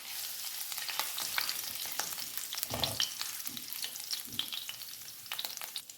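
Spices and chopped green chilies sizzle in hot oil in a pan for a dry potato and cauliflower dish, a steady crackling fry with occasional stirring scrapes and no talking.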